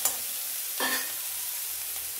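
Green chili and curry leaves sauté in oil for an egg chukka, giving a steady loud sizzle from start to finish with one brief burst of stirring near the start.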